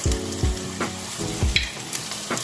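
A spoon stirs meatless soup in a pot in a home kitchen, a rhythmic scrape about once a second over a steady simmering sizzle.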